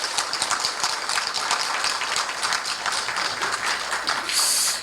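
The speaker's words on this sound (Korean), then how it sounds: "여러분 큰 박수 한 번만 더 부탁드릴게요" Sustained audience applause at an award ceremony for a KOICA promotional idea and essay contest, a dense, steady wash of many hands clapping that swells louder near the end.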